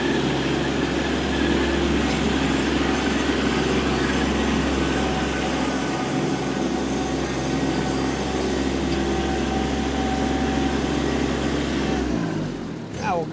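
A 24 hp Kubota B2401 compact tractor's diesel engine drones steadily in first gear, high range, with a constant low rumble and hum, shifting slightly at the end.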